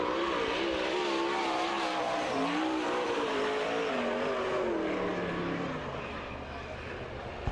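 A sprint car roars through a qualifying lap at the All Star Circuit of Champions Hoosier Fall Classic in Lawrenceburg, Indiana. The loud, continuous engine note rises and falls with the corners, then fades as the car moves away, with a commentator talking over it.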